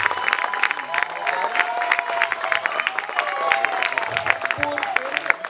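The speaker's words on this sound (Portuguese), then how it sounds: "isso merece uma salva de palmas" A crowd applauds a female vice-minister of the Interior Ministry at an African Women's Day commemorative event. Busy clapping mixes with cheering and voices throughout, fairly close and lively.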